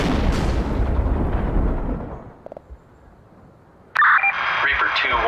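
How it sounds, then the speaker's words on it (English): Missile firing in the modern warfare strategy game World in Conflict: a roaring rumble of launch and blast fades out, then a sudden bright burst of radio-like crackle cuts in near the end. "Fire the missile!"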